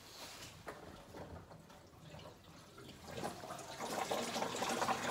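Tap water running under a sink while a domestic hot water boiler starts up in a garage, a steady faint wash of flow that grows louder and busier toward the end.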